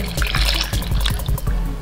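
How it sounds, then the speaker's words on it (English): Buttermilk pours into a well of dry ingredients for Irish soda bread, a close, continuous glugging trickle with a splashy wet texture that holds steady for a couple of seconds. "We'll go ahead and pour in our buttermilk."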